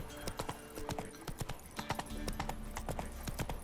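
Horse hooves clip-clop in a quick, steady trotting rhythm in the video game The Witcher 3, fairly faint, with light chatter in the background.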